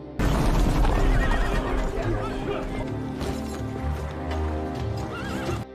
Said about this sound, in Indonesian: Tak lama, datanglah pasukan berkuda.